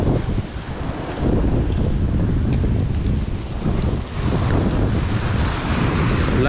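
Ocean waves wash against the rocks of Seal Beach jetty at low tide, a loud continuous roar of surf heavily mixed with wind buffeting the microphone, with no clearly separate breaks.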